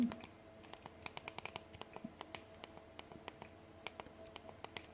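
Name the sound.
typing on a computer keyboard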